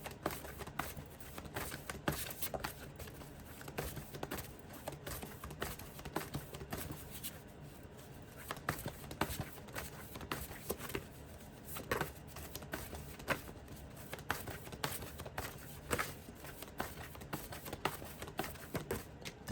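Cards are shuffled close by in quick, papery riffles and soft flicks, repeating irregularly with no talking.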